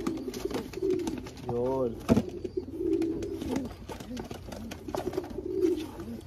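Racing pigeons in a loft coo softly and repeatedly in low warbling calls close by, while someone talks over them.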